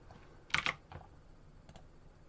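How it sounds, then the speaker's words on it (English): Short bursts of typing on a computer keyboard in a quiet room: a quick double cluster of clicks, then a single keystroke and a faint final pair, close to the microphone. "I'm just typing out, get more people in."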